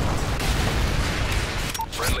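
A Predator missile strike in the multiplayer shooter Call of Duty on the Dome map lands as a loud, sustained, rumbling explosion that fills the whole clip, with a brief sharper crack near the end.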